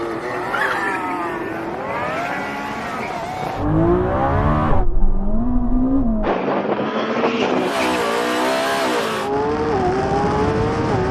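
A Lamborghini and a Ferrari launching in a drag race, loud engines revving and climbing through gear changes with shifting pitch, close and dominant with no talk.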